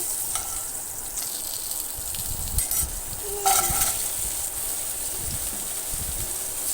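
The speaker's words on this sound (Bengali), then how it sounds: "একটু ভালো করে ভাজবো নুন হলুদ দিয়ে।" Vegetables fry in a pan with salt and turmeric, giving a steady close-up sizzle with occasional stirring scrapes and no talking.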